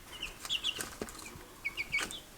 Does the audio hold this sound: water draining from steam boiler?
no